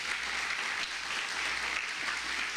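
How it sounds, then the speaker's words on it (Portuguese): A church congregation applauding loudly at a sermon, a dense, even wash of clapping from many hands that holds steady, with no voices heard over it. "Aplauda bem forte ao Senhor"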